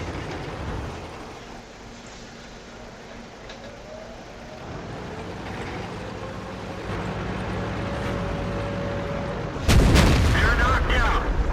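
Tank gun firing in World of Tanks, a single sudden loud boom near the end cutting through a steady engine and track rumble with a rising whine.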